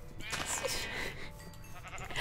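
Sheep bleating in the Minecraft video game, a wavering cry rising over continuous background sound and game noise, with people talking through much of it.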